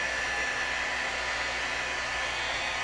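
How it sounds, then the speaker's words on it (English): A hair dryer blows steadily on 110-pound watercolor paper that is not fully cotton, giving a continuous close, loud broadband whoosh with no pauses throughout. "So I'm just drying this really good."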